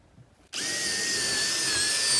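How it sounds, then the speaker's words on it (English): A power drill spins up abruptly after a brief silence and holds a steady high whine while pre-drilling wood pieces for a tiny house kitchen remodel, loud and close. "Then I'm taking my pieces, pre-drilling them quick."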